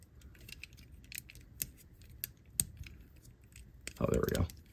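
Plastic parts of a Beastbox BB-47 Phantomaster chameleon lizard toy click and snap as its tongue folds in, a few sharp close ticks followed by a louder burst of rattling near the end.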